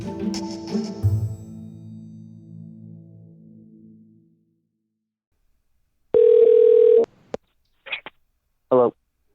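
After a fading musical passage and a pause, a telephone line gives one sustained tone, followed by a few short electronic beeps and bursts as a number is called.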